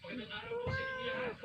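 A domestic cat meows a drawn-out, wavering cry up close, a single sustained plaintive call.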